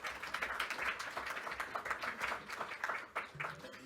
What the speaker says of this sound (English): Applause and thanks again to Theodoros.